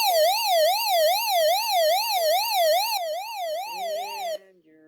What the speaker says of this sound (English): here's the SOS siren